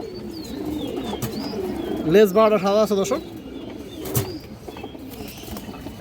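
Muslodom pigeons coo in a loud, warbling burst midway, with softer bird calls around it, while someone talks close by throughout.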